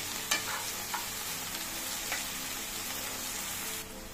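Small fish pieces stirred in a frying pan give a soft, steady sizzle with a few faint scrapes, then the sound drops slightly near the end, quiet and without speech.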